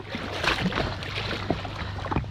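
A 1996 Sea-Doo XP jet ski engine drones steadily on the water, with a low hum buried under wind and spray and a few splashes.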